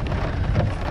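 Rain falling outdoors in Saratov makes a steady broadband hiss with low rumbling beneath it, a dense wash of sound close to the microphone, with no talk.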